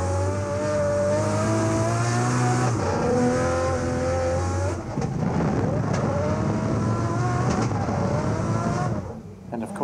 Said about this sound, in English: I would listen to the fuel cuts.